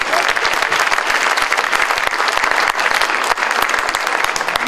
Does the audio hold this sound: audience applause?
yes